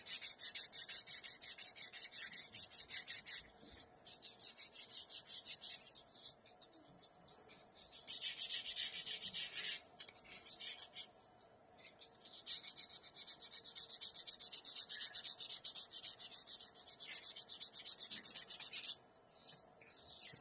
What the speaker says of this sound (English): See, it sands really smooth. Sands very easily.